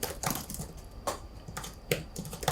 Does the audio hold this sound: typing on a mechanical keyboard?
yes